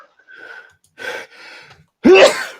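A single sharp sneeze bursts out near the end, preceded by a few quiet breathy sounds and soft murmurs.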